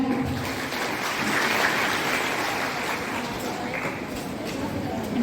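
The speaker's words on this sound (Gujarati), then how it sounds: "તાળીઓના નાદથી એકવાર એમને વધાવીએ।" An audience at an adolescent-girls nutrition camp welcomes a guest with steady applause, a dense, even wash of clapping that holds at one level throughout.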